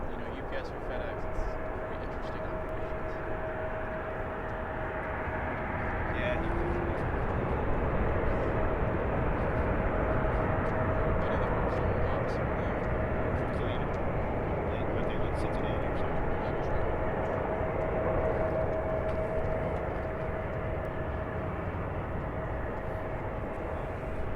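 A plane spools up for takeoff on runway 9 at San Diego, a broad, steady engine roar that swells slightly midway and holds, with no talk over it.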